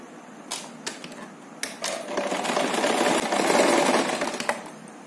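A sewing machine stitches along the jute edges of a handmade pouch, starting with a few separate clicks and then running in a fast, steady mechanical clatter that swells and eases, close and fairly quiet, with no voices.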